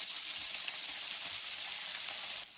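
Velveted chicken pieces sizzling loudly as they return to a hot pan, a dense, steady frying hiss that holds for a couple of seconds and then drops off, with no talk.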